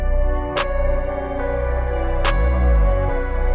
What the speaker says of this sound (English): this clap and snare fits super nicely with these dark vibes